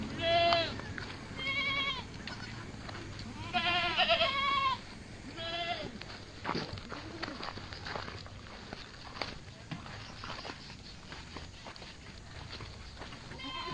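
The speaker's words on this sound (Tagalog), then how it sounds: "Daming kambing." Several goats bleat in repeated overlapping calls near a river on a very hot day, loudest in the first few seconds and then thinning to scattered calls over background rustle and footsteps.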